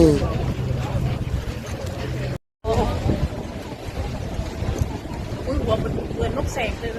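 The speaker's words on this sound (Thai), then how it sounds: "เรือที่ผมใช้นะครับเป็น เรือโดยสารธรรมดานะครับไม่ใช่สปีดโบ๊ทนะครับ" An ordinary passenger boat on the way to Koh Larn, its engine rumbling low and steady under wind buffeting the microphone, with a brief cut in the middle.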